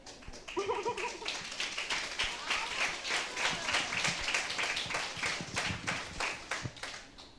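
Audience applause fills a university accounting-week financial education workshop, a sustained burst of clapping from a crowd that swells and stays steady throughout, with a brief voice at the start.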